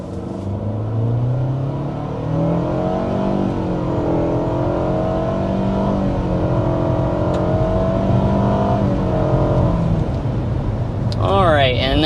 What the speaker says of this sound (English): we'll kick things off here with a hard acceleration